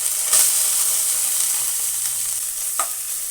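Onion frying with ginger garlic paste in a pan, a loud, close and steady sizzle with a couple of brief stirring scrapes and no talking.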